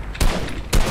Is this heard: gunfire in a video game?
yes